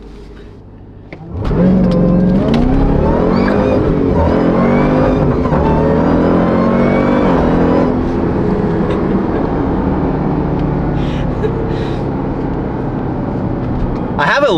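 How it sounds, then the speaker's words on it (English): A Jeep Trackhawk launches into a hard pull, its engine surging from idle to a loud, rising roar that climbs through the gears for several seconds, with people talking over it. "but we can do a pull in the Trackhawk."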